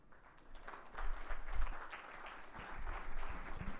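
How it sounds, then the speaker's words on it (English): Scattered, faint audience applause at a live business presentation, thin clapping that swells and ebbs over a few seconds. "the round of applause is not matching up to the level of that"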